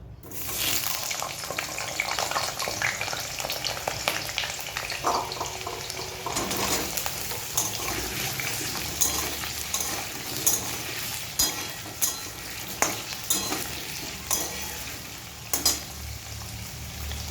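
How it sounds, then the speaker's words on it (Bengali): Potatoes fry in oil for vegetarian soybean muitha, a constant close sizzle with scattered crackles and occasional sharp clicks of a utensil throughout. "এবারে আমি ওই তেলের মধ্যে আলুগুলো ভেজে নেব।"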